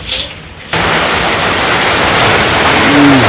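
Sudden heavy rain with big drops in a village pours down as a loud, dense, constant wash of noise after a short quieter opening, with no talk.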